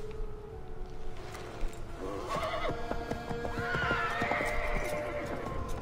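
Horses whinny and gallop in the Assassin's Creed 3 video game, loud and close, with rhythmic hoofbeats over a wintry, windy ambience.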